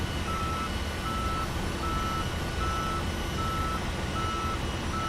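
Repeated warning beeps sound as the cargo bay doors of an iniBuilds A300 BelugaST open in X-Plane 11, steady tones over a constant loud engine-like hum with no speech.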